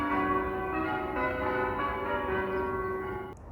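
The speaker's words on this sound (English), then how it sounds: "behind me there's a church with very loud bells going." Loud church bells ring just outdoors in Belfast, a sustained, overlapping peal of resonant tones that carries on steadily before cutting off near the end.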